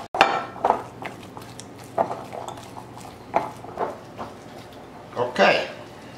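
Eggs and grated cheese being mixed together in a bowl for zucchini pappardelle, heard as a string of clinking, scraping utensil strikes against the bowl at an uneven rhythm, close and fairly loud, with someone talking over them.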